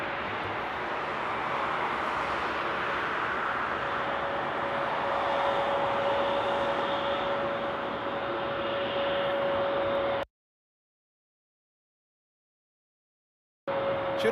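An Airbus A380 taking off at Frankfurt Airport at night, a loud steady jet roar with a sustained engine whine, holding for about ten seconds before cutting out.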